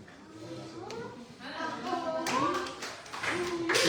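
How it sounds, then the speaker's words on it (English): People talk while a patter of clapping builds toward the end, growing louder as applause starts. "give her a round of applause"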